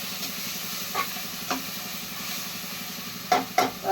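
Spices and mint sauté in a pan with a steady, close sizzle and hiss, broken by occasional stirring scrapes.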